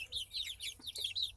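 Backyard chickens, cockerels and pullets together, clucking and chirping close by in quick, repeated high bursts with no talk over them.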